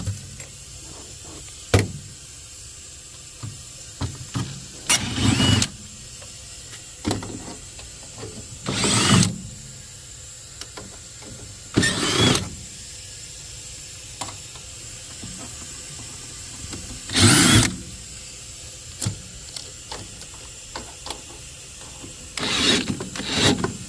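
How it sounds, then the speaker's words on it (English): Rusted screws being backed out of a Trane commercial package unit's heat exchanger panel, heard as repeated short bursts of a power driver with ratcheting clicks, spaced a few seconds apart between quieter handling noises. "All right, now take the rest of these screws off."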